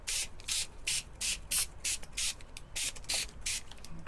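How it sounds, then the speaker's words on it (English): Water sprayed from a spray bottle onto the back of a paper print comes in about a dozen short, sharp hissing bursts in a steady rhythm, close and clear with no voices. "Turn that over and give it a spray down."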